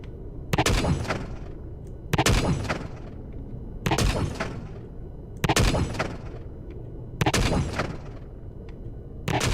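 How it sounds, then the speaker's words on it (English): Gunfire in Empyrion Galactic Survival strikes a ship in loud, repeated bursts, five heavy clusters of rapid shots roughly every second and a half, each with a booming impact tail, no talking over them. "I'm hearing shots bouncing off my hide"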